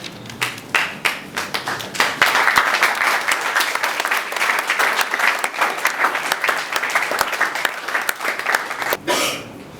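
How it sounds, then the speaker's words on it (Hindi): A theatre audience in Mumbai applauds the actors after a Hindi play, with crisp individual claps up front growing into full, dense applause that runs for several seconds before tapering off abruptly near the end. "इतनी देर तालियां बजाकर हमारे कलाकारों का उत्साहवर्धन किया"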